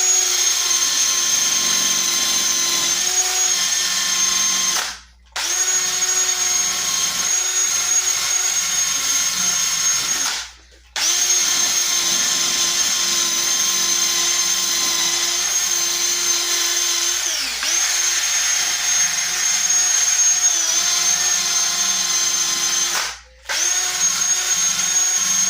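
A wire brush spun on a power drill scrubs rusty tools in long loud whining runs, broken by a few short pauses where the drill stops.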